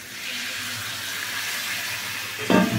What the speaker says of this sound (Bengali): এর মধ্যে আমি একটু জল দেবো, জলের একটু জল দিতে হবে।